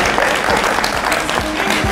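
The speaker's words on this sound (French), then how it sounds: "On applaudit pour lui." An audience at a TV game show applauds, a dense, loud wash of many hands clapping together with no break.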